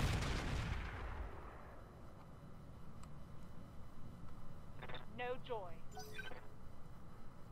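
Mech weapons firing in the BattleTech-based video game Roguetech: a heavy boom opens, then fades into a low rumbling tail while a voice talks over the later part.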